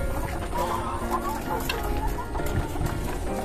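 An RTL laying hen in a backyard poultry pen clucks steadily at close range, a soft continuous run of clucks with low background noise.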